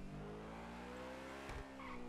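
A fast car in GTA 5 drives on a Dubai island map, its engine droning steadily with a faint tire squeal or skid near the middle, heard quietly with no talk.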